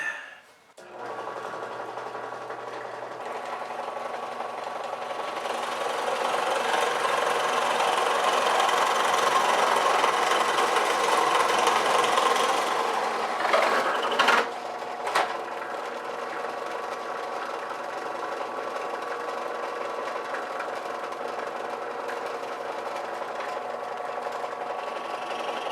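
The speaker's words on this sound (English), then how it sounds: "I have 24 holes, and I'm actually going to have to drill them twice" A power drill bores a series of holes through a wooden 2x4 for conduit, a steady loud whirring grind that holds for about fourteen seconds, wavers, then gives way to a lower ongoing motor hum.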